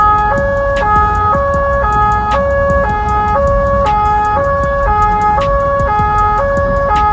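An ambulance siren wails loudly in a steady repeating two-tone pattern, with traffic rumbling underneath, in a traffic jam during a flood.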